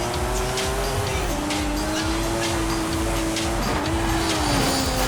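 Racing cars roar in Forza Horizon 5, a sustained loud engine drone with shifting pitch as the car revs and turns, continuous and near with no talk over it.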